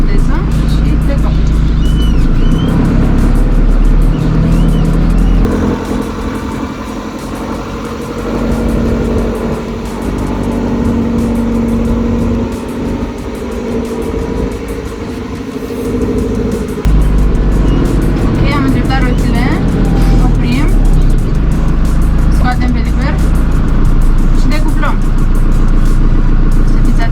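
A JCB 3CX backhoe loader engine rumbles steadily and loud as the machine, shifted into gear with four-wheel drive engaged, pulls away, its diesel drone rising and falling under continuous talk.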